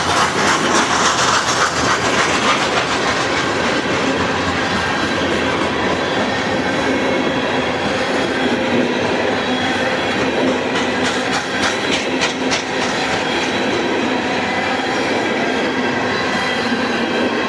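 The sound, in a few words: long coal train passing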